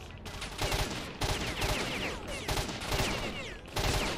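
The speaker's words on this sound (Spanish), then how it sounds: "me estaban pegando tiros por todas partes" Sustained gunfire in the video game STALKER: Shadow of Chernobyl, with dense overlapping bursts of automatic and single shots that keep going across the whole stretch, loud and close, and no talking.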